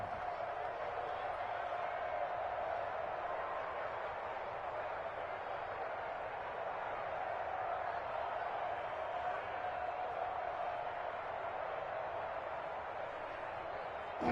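A stadium crowd in a PS4 American football video game gives a steady, dense roar with a faint tonal hum, continuous and fairly loud throughout with no clear peaks.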